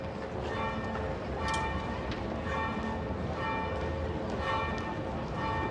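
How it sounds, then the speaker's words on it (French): Church bells ringing across a port town, a dense, continuous peal of overlapping tones that holds steady throughout, heard at a moderate distance with no voices. "Toutes les cloches sonnèrent."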